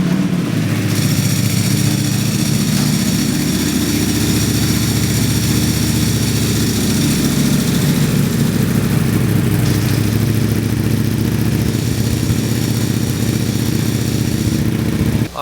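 A Ducati Panigale V4 motorcycle engine runs loud and steady up close, a continuous rumbling roar that holds for the whole stretch with slight shifts in pitch.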